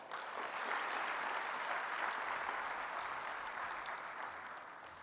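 Sustained audience applause fills a conference hall at an agricultural forum in Kigali after the First Lady's speech, a dense, steady wash of clapping from a large crowd that holds for several seconds.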